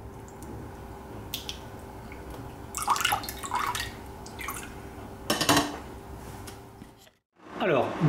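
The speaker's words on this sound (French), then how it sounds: "Pareil, je mets à égoutter et je procède avec mes autres buns." Soaked brioche buns set to drain for French toast, with soft drips and wet squishy handling sounds close by in a kitchen, some clinks of dishes in between.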